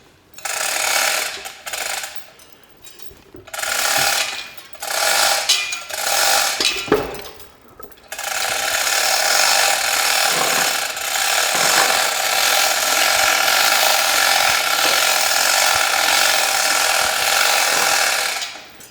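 An endless chain hoist lifts a part off a Massey Ferguson 65 tractor. Several short bursts of rattling chain and ratchet clicks give way to a long, steady, close clatter of chain running through the hoist.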